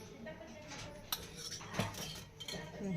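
Spoon scraping and clinking against a metal pan while ingredients are stirred together in a home kitchen, quiet close-up sounds with a few sharper clinks.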